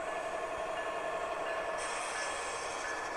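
Model train locomotives fitted with upgraded speakers, an Intermountain unit in a large baffle box, rumble past in a staging yard with a steady rail-like roar and a faint hiss, continuous and moderately close with no talking.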